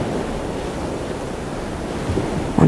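Water surging against a rocky sea coast, a steady broad wash of surf and wind noise that swells slightly near the end, close and continuous with no talk.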